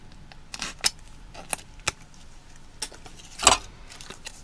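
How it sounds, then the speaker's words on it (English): An MRE pouch of beef in a savory tomato base sauce being cut open, heard as a few sharp snips and crinkly plastic rustles spaced apart, close by and fairly quiet, with a louder crackling burst near the end. "let's get this cut open."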